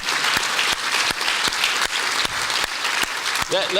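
Steady audience applause at a public conversation event, dense clapping punctuated by regular sharp nearby claps, with a voice starting to speak over it at the very end.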